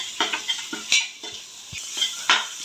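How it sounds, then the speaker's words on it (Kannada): Mint and kasuri methi fry in a pan for beetroot bhat, a soft sizzle broken by several sharp scrapes and clinks of a spoon stirring against the metal. "ಪುದೀನ ಮತ್ತು ಕಸೂರಿ ಮೇಥಿ ಹಾಕಿ 2 ಮಿನಿಟ್ಸ್ ಫ್ರೈ ಮಾಡಿ"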